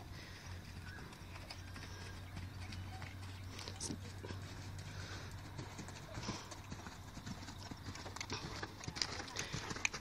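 A horse canters around a riding arena, its hoofbeats a steady rhythmic clip-clop at moderate distance, with an instructor's voice calling out occasionally over the footfalls.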